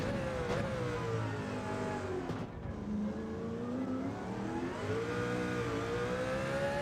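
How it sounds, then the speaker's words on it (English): A racing car in a video game accelerates hard out of a corner, its rear wheels spinning up as the engine note climbs and rises in steady, loud bursts, with no talking. "Still spun the back of the car up there as we accelerated out of there."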